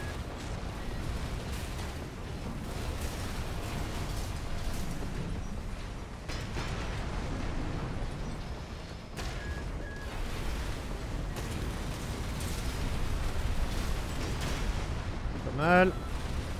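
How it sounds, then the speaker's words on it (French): Heavy booming cannon blasts go off now and then amid dense, rumbling Armored Core 6 arena battle noise, with a voice mixed in. "Faut que je les place un peu mieux mes tirs de canon."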